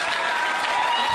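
A comedy club audience at Gotham Comedy Club in New York applauds in a dense, steady wash of clapping that stays loud and close for the whole short stretch.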